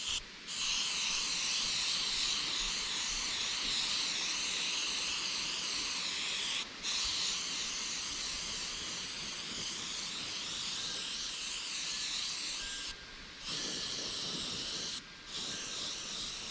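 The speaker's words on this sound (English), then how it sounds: "I'm putting it on with my detail airbrush so it doesn't go on quite as thick" Detail airbrush spraying transparent Candy Bright Yellow paint onto a largemouth bass replica, a steady close hiss held for several seconds at a time with a few brief cutoffs, no talking.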